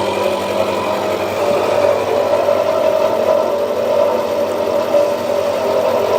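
Milling machine with the table under power feed while climb milling down an inside face, giving a steady, fairly loud continuous motor and cutting drone with a faint whine and no pauses.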